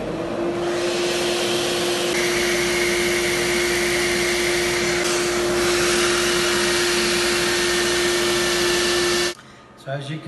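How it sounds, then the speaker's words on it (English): A shop vacuum used for dust collection runs loud and steady with a constant whine while a power sander works a wooden bowl on a lathe, then cuts off abruptly near the end. "So we turn the vacuum on."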